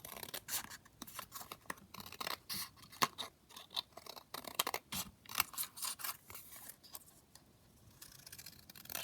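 Scissors snip repeatedly through paper while trimming a handmade craft tag cut from a collage sheet, a quick irregular run of close, crisp cuts with short pauses between bursts.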